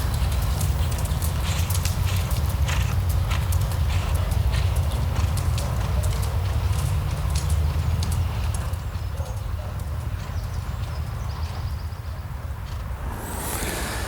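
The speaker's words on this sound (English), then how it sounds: "you're back to a nice swinging trot again, letting him gain confidence again" A young horse's hooves beat out a swinging trot in a steady, even clip-clop rhythm throughout, close and clear over a constant low rumble of background noise.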